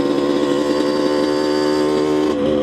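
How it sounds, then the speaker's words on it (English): Yamaha Banshee supermoto motorcycle engine running rough, a loud close steady buzzing drone with a slight pitch change near the end, no talk. "I don't think it's running quite right, but this is the Banshee bike."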